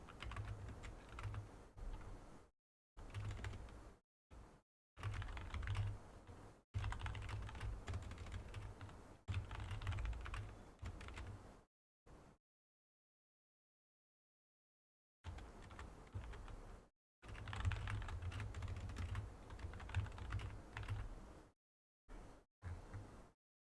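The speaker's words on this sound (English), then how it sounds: "I'm just hoping that the keyboard clacking is good enough while not doing my iPad doodling." Computer keyboard typing clacks in bursts of rapid keystrokes, broken by several pauses and a longer silent gap, close and fairly loud with no talking.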